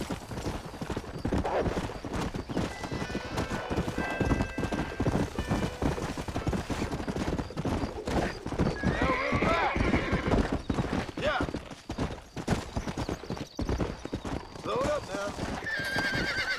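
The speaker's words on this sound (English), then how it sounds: "We haven't had to break a horse for a while" A horse neighs and whinnies repeatedly while its hooves clip-clop in Red Dead Redemption, loud and close, mixed with other game sounds and occasional gunshots as a person talks over it.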